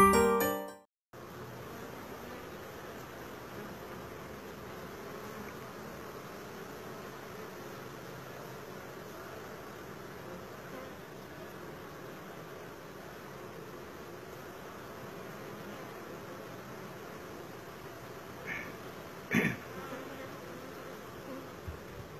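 Honey bees buzz around a backyard beehive in a steady, soft, continuous drone that runs almost unbroken, with a brief louder swell near the end and no talking.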